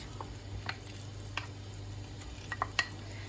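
Minced meat frying in butter and olive oil gives a low steady sizzle, punctuated by a few sharp clinks and scrapes of a utensil against the pan, with no voices.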